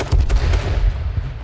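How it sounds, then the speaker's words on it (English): Fireworks exploding in the video game H1Z1, a loud rapid burst of booming, crackling blasts that tails off into scattered pops. "God damn fireworks, man."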